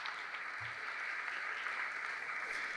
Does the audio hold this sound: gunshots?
no